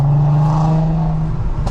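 A VW Golf Mk5 R32 engine, held around 2,500 rpm in second gear, revs close up with a loud, steady hum and a brief dip near the end.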